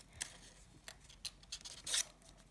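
Pink origami paper is folded and creased for an origami man figure, giving faint, close crinkles and soft swishing rubs with a few brief louder crackles, no talking.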